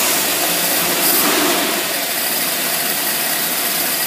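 A small engine runs roughly and unevenly, a loud, close, continuous drone with no clean steady idle and no talk.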